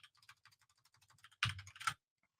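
Quick, light keystrokes on a computer keyboard entering test card details, a rapid patter of clicks ending in a couple of louder presses, close and quiet with no speech.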